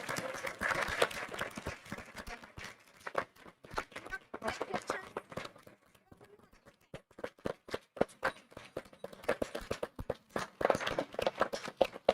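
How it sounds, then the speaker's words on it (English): Applause at a school district board meeting honoring student athletes, scattered clapping that swells, fades to sparse claps midway, then picks up again, with some voices in the room. "If y'all will give them one more round of applause."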